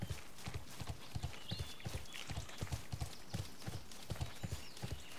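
A horse is ridden at a steady trot in the online game Bless Online, its hoofbeats making regular paired clip-clops that stay close and even. Faint game sounds sit underneath.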